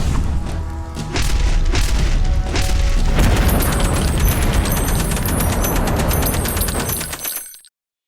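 A shotgun fires a custom shell loaded with crayons into a block of ballistic gel: one loud, heavy blast followed by a long, rumbling, crashing roar that fades over several seconds, with no talking.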